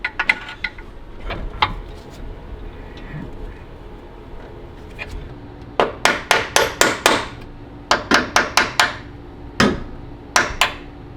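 Sharp metallic hammer taps on a transmission mount bolt of a Ferrari 360, close and loud, in quick clusters of four to six strikes separated by pauses, with some talking in between.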